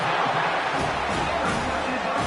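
A dense, steady roar of a stadium crowd in College Football 25, loud and continuous with no breaks.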